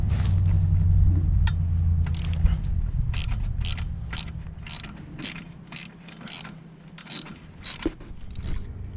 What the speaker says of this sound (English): I may need a wrench on the other side to get that.